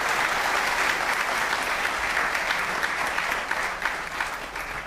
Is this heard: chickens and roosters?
no